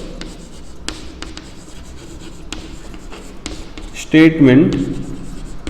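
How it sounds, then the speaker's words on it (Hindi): A pen scratches steadily across paper while someone writes out a mathematical logic exercise, with someone talking over it throughout and a louder burst of scribbling near the end. "मैं लिखता हूं"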